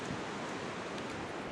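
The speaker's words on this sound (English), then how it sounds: "Gibbon Waterfall." Gibbon Falls waterfall in Yellowstone rushes as a steady, broadband roar of falling water, constant and fairly faint, with no voices.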